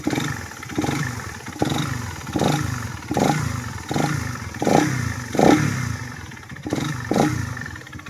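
A first-owner RFI motorcycle at 14,000 km, with a loud rattle suspected to come from the radiator or balancer, revved in repeated bursts about every 0.7 seconds, each burst bringing a loud clattering roar, close up with no talking.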